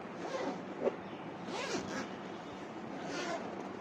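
Zipper on a compartment of a professional makeup kit being pulled open in one continuous close, fairly quiet rasp lasting several seconds, with no talking.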